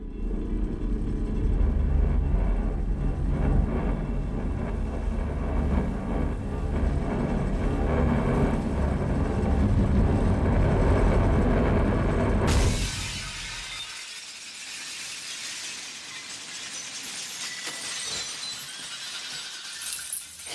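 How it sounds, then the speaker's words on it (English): A low, droning, didgeridoo-like vibration sound effect from the film X-Men hums and rumbles for several seconds, then cuts abruptly into a burst of smashing glass, with shards scattering and tinkling as the crash fades. "We had to create that sense of vibration, a didgeridoo type sound that preceded the smashing glass."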